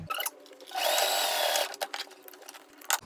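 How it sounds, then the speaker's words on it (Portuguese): A sewing machine runs a burst of stitching along the edge of a dress seam, a loud steady whir lasting under a second, framed by shorter stops, handling clicks and fabric rustle. "E eu vou passar uma costura aqui na beiradinha."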